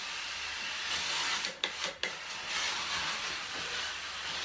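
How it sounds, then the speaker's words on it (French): A steam iron glides over the back of a shirt on an ironing board, giving a steady hiss of steam with a brief rubbing sound and a couple of short breaks midway, close and moderately loud with no talking. "Je n'ai plus qu'à repasser."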